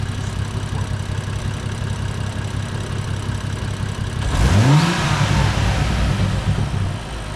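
A BMW M235i with the N55 engine, fresh spark plugs and coils, idles with a steady drone, then revs once in a quick rising and falling sweep before settling back to idle.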